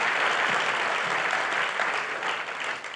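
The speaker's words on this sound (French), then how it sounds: "Est-ce qu'on peut acclamer Dieu pour ta sagesse, Seigneur?" Church congregation claps in praise, a thick, steady burst of applause from many hands that holds evenly for a few seconds and eases slightly toward the end.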